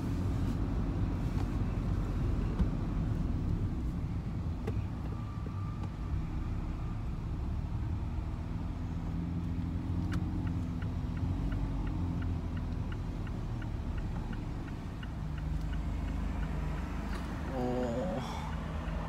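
A roofless Ferrari Roma rides along, its engine and tyre rumble forming a steady low drone with passing road and wind noise, nearby and continuous, with no talk over it.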